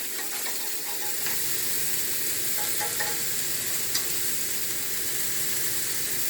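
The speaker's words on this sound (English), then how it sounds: "All I'm going to do is stand them on edge and roll them around to get them a good little sear around the outside edge." Squash rounds sear in a hot pan, stood on edge and rolled around, giving a steady, loud, close sizzle and hiss throughout, with a few faint utensil clicks and no talking.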